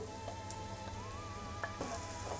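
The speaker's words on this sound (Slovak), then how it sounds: "Na panvicu sme si dali olivový olej, ktorý si rozohrejeme teraz a môžeme dať osmahnúť našu cibuľku." Onion sautéing in heated olive oil in a pan for a pumpkin risotto, a steady, soft, close sizzle that stays low and even throughout, with a few faint clicks and no talking.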